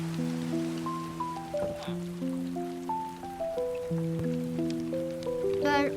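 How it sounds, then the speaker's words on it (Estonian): Rain falls steadily in the Minecraft video game, a soft continuous hiss beneath gentle melodic piano-like game music that runs throughout, with no talking. "Kas siin ma olen nüüd vihma ees peidus."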